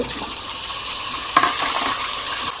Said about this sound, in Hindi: अब इसको हम 5 से 7 मिनट भूनेंगे।